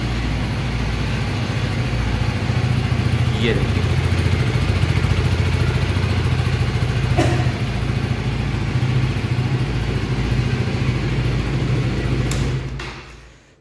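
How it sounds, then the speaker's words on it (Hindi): KTM Duke 250 motorcycle, 2024 model, idling loudly and steadily with a deep exhaust burble close by, a few short clicks in between, and a brief spoken remark before the engine fades out at the end. "यहाँ पे साइलेंसर दिया गया है इसका यहाँ पे गजब आवाज़ है"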